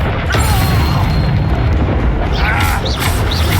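The Incendio fire spell cast in the video game Hogwarts Legacy, a loud, dense whooshing roar of flame with booming bursts, continuous and close, mixed with game effects and faint voices.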